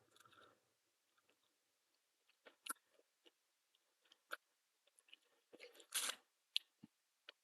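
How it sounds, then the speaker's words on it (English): Quiet, close chewing on a plastic hot sauce packet held in the mouth: sparse, soft crunches and crinkles separated by silences, then a denser cluster of crackly bites near the end. "I'm just going to put the whole thing in my mouth and kind of chew on it"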